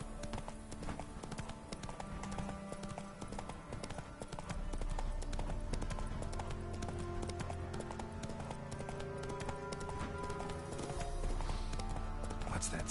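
A horse gallops in The Witcher 3 on PS4, rhythmic hoofbeats pounding steadily over layered game music, growing fuller partway through and staying close and loud.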